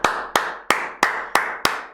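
Six slow, deliberate hand claps from a single person, evenly spaced about a third of a second apart, each crisp and close with a short ringing decay and no talking.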